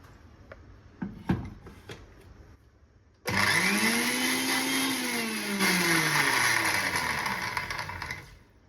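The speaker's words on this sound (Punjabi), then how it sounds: "ਇੱਕ ਵਾਰੀ ਫਿਰ ਗ੍ਰਾਈਂਡ ਕਰਾਂਗੇ 2-3 ਸੈਕਿੰਡ ਦੇ ਲਈ ਕਰਨਾ ਹੈ ਜ਼ਿਆਦਾ ਨਹੀਂ ਬਸ ਆਪਾਂ ਦਹੀਂ ਨੂੰ ਮਿਕਸ ਕਰਨਾ ਇਹਦੇ ਵਿੱਚ" After a few light clicks and knocks, a mixer grinder starts up and roars steadily for about five seconds, loud and close, blending green chutney with yogurt.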